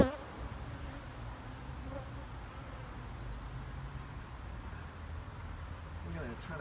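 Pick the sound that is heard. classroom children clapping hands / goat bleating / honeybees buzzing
honeybees buzzing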